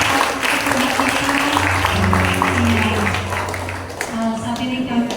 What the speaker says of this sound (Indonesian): Haleluya, berikan tepuk tangan.